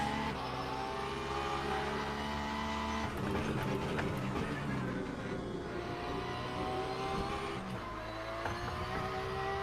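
A race car engine from the Le Mans Ultimate sim racing game drones steadily and loud, its pitch shifting with gear changes, while other cars pass nearby.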